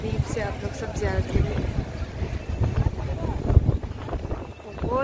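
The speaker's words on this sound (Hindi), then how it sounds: "बहुत तेज़ हवा चल रही है" Strong wind blows into a phone microphone in an outdoor street near Masjid an-Nabawi in Madina, with gusty rumbling buffets under continuous talking by a nearby voice.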